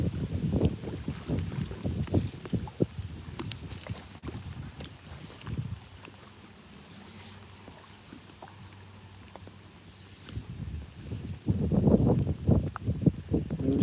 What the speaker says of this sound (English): No shortage of wind, for sure.